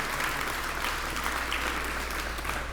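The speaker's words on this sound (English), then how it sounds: "Give up a big round of applause for West Savannah and their community association." An audience at a ribbon cutting ceremony breaks into steady, dense applause throughout, with a faint murmur of the crowd beneath the clapping.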